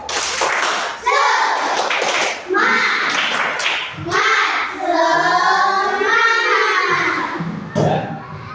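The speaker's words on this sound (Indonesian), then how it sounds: "Dah tepuk semangat." Schoolchildren performing a rhythmic spirit clap in unison, sharp patterned bursts of clapping that alternate with children's chanting voices, close and loud.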